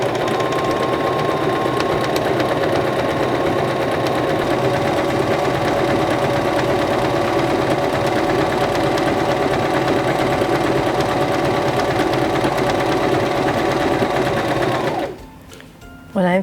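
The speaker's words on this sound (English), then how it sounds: "Placing our fabric underneath our presser foot, we'll lower our presser foot, press down on our foot control," A Singer Start 1304 sewing machine stitches fabric at a steady fast rhythmic hum and chatter, close and continuous for about fifteen seconds before stopping abruptly.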